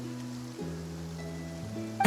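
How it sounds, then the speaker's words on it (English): Steady rain falling over Fontaine in the video game Genshin Impact, a soft broadband hiss beneath sustained musical tones, with a brief louder burst at the very end. "Looks like rain."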